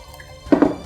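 Drinking water being poured into a cup, a short quiet liquid splash lasting about half a second after near silence.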